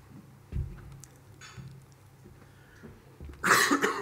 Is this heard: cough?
yes